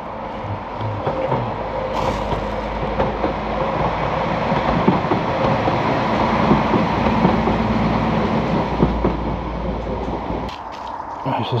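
A train rolls past on the railway near a riverside touring park in Betws-y-Coed, Wales, on a cold morning, giving a steady, continuous rumble with clattering that holds loud and close for the whole stretch, and no talking over it.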